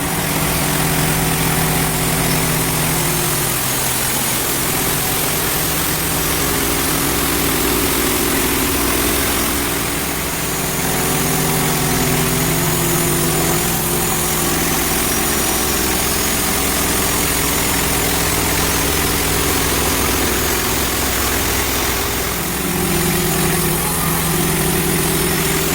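A gas chainsaw cuts through a rotten birch log in the woods, its engine running loud and steady throughout with slight shifts in pitch as the chain bites into the wood, close up and with no talking.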